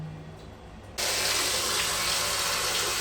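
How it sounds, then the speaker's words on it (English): Water from a tap suddenly begins gushing into a tub, a loud, steady rushing splash that starts abruptly after a second of quiet and continues without a break. "I'm going to soak this in a tub of water"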